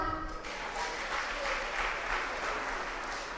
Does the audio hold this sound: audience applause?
yes